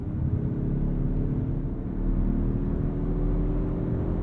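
Muted engine and exhaust drone of a 2023 Mazda3 Turbo hatchback with dual exhaust outlets, a smooth steady low hum with road rumble heard from inside the cabin while driving, no revving peaks and no talk.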